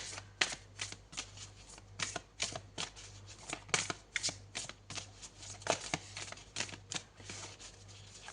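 Oracle cards being shuffled by hand, a soft papery riffling and slapping in irregular bursts, close and fairly quiet, with a low steady hum underneath and no talk.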